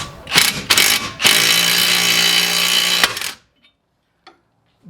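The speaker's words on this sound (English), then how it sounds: "I will put my impact on that bolt there while keeping forward pressure on that" An impact wrench hammers on a ball joint bolt of a Volkswagen, short bursts and then a sustained loud rattling run up close, ending abruptly into near silence.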